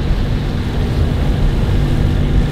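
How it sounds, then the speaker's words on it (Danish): A sailboat motors across the Kattegat, its engine giving a loud, steady low rumble mixed with wind and water noise close by. "Nu har vi motor på, så går det selvfølgelig noget langsommere."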